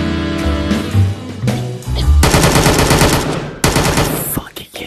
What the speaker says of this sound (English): Somebody's shooting out there.